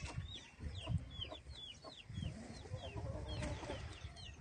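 Roosters clucking in a farmyard at feeding time, several birds giving repeated short clucks and calls at moderate distance over faint background noise, with no talk.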